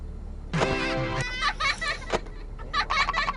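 Video game bird clucking in a few quick, loud, close bursts with short gaps between them, set against a low steady background hum.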